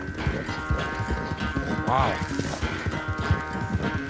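Horse hooves clip-clop steadily as a rider gallops across open ground in Red Dead Redemption 2, with a brief whinny partway through and a voice exclaiming over the rhythmic hoofbeats.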